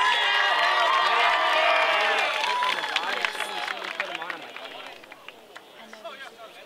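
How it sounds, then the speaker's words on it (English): A football stadium crowd at a high school game cheers and whoops loudly for the seniors, the roar swelling at first and then thinning out into scattered shouts. "another round of applause for your football, cheer, and AV seniors"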